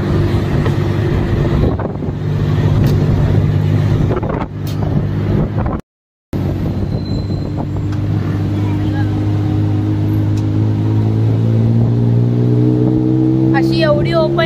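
Open tuk tuk ride through Bangkok traffic over a bridge, steady engine drone and rushing wind noise buffeting the microphone, with a brief dropout and rising engine pitch near the end.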